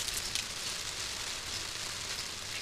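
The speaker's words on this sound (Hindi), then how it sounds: "अभी हमारे यहाँ बारिश स्टार्ट हो गई है" Steady rain falling outdoors around potted Rhoeo plants, a dense even hiss of drops on surfaces with no pauses, fairly loud and close, no voices.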